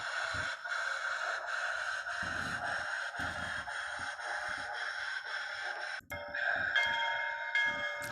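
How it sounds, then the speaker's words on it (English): A model railroad sound decoder plays the bell of a New York Central 2-8-2 H10A locomotive, a steady metallic ringing with regular rhythmic strikes that holds for several seconds before briefly cutting out and resuming. "The bell sounds really nice."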